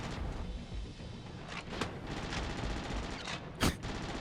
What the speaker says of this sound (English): But now Ivanov is on the turret. I can sit back and let him shoot.